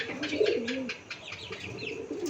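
Pigeons coo in soft, rounded, repeated calls close by, with lighter chirps over a quiet background and no talking.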